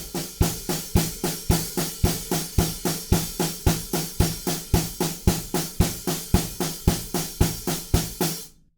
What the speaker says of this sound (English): Then it starts to build up by playing snare drum with the 8th notes along with the hi-hats.